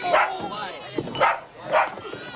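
Dogs give three yelping, barking bursts at close range, evenly spaced and fairly loud.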